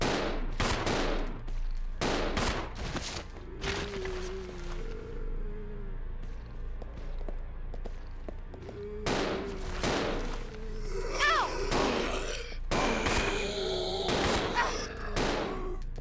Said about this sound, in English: Stop shooting over there.